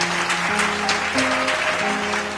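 A church congregation applauds after a Sunday sermon, the clapping a steady, dense patter heard together with sustained organ or keyboard chords underneath.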